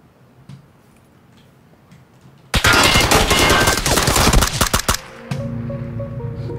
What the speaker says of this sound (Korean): 차를 그렇게 막 쏘시면 됩니까?